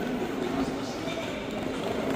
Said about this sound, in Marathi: आता आम्ही जाता बघूया ट्रेन येता